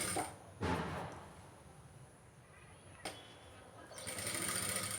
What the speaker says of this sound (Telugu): ఇలా చివరి వరకు ఇలా కుట్టుకోవాలి.